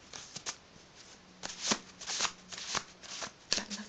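Textured cardboard playing cards shuffled in short bursts of soft shushing riffles and flicks, close and fairly quiet, with a few slaps between passes and no talking.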